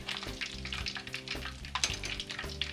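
Fish frying in hot oil, a steady close crackling sizzle with scattered pops running throughout, no talk over it.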